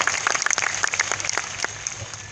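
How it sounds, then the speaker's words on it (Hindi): An audience claps at a village business meeting, a burst of close, bright, uneven handclaps that thins and fades over a couple of seconds, with no speech. "शायद आप ताली बजा रहे"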